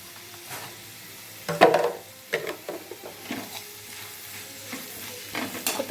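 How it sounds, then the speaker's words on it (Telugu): Chopped ivy gourd (dondakaya) fries with salt in a pan, giving a soft, steady sizzle broken by several sharp scrapes and clatters as it is stirred. "కొంచెం సాల్ట్ యాడ్ చేసుకొని ఒకసారి ఫ్రై చేసుకోండి"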